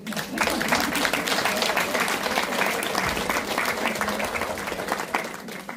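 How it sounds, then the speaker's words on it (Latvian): Applause ripples through the audience at a panel discussion on seniors in Latvian politics, a dense, even clapping that starts quickly and holds steady for several seconds at a moderate distance. "Aplausiem tagad."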